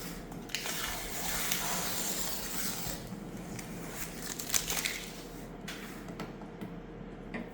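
Peeling protective foil off a new Kay ECU tester used for testing a Mahindra Max Pickup 1.7 diesel ECM: a continuous close crinkling, tearing rustle over several seconds, with a brief louder crackle midway.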